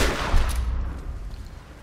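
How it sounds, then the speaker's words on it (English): A shotgun fires once in the Tomb Raider video game, a loud low blast near the start that rolls into a long decaying boom with scattered rumbling echoes over the next second and a half, no talking. "My shotgun should do the trick."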